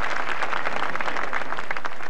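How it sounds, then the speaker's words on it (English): A concert audience at a tsunami relief telethon breaks into loud, dense applause, steady clapping filling the hall without pause. "I think he deserves a round of applause for that"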